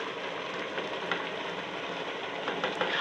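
Onion and fenugreek leaves hitting a pan of frying mustard greens (saag) keep up a steady, close sizzle and crackle, with a few sharper spits near the end and no talking.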